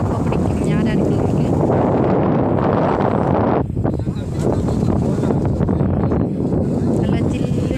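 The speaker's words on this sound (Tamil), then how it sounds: "நல்லா ஜில்லுன்னு காற்று." Strong wind rushes and buffets the microphone continuously, a loud, steady roar with gusty fluctuations throughout.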